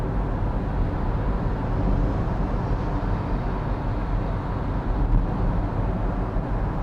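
Cabin of a base-trim 2025 Kia Seltos without laminated glass cruising at 80 km/h, a steady low road and engine rumble with constant tire and wind noise, unbroken and without talk.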